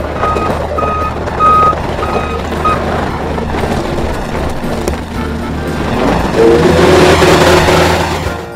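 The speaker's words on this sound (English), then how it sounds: "Do you hear that engine purr?" A skid steer's diesel engine runs with a steady low drone while a reversing alarm beeps in a regular pulsing series at close range. The engine then swells louder and rougher toward the end.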